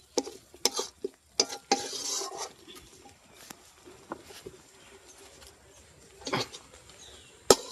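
Paneer posto being stirred in a kadai, with intermittent scraping and clattering strokes in short bursts between quieter stretches of faint sizzling.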